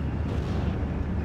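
A British 6-pounder anti-tank gun fires at a StuG assault gun in a Normandy 1944 battle, heard as a loud, continuous booming rumble with no clear separate shots and no voices.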